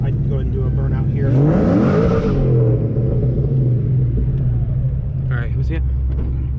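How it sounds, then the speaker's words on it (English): A 900-horsepower 2004 Mustang Cobra revs up with a rising engine roar and harsh tire noise during a burnout, then drops back to a loud rumbling idle, heard close from inside the car. "I'd go ahead and do a burnout here."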